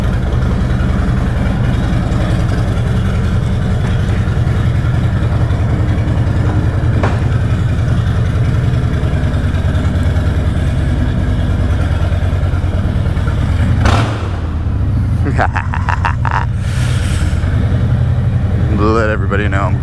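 A Harley-Davidson motorcycle fitted with a Two Brothers 2-in-1 exhaust rumbles steadily and close by with a deep, loud idle throughout, and a short rise in engine noise comes partway through.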